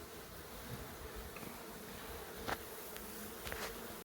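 Honey bees buzz around an open hive, a dense, continuous hum with a few individual bees passing close by.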